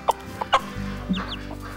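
A mother hen gives a few soft, short clucks to her chick, close by and brief, with faint higher peeps and light background noise.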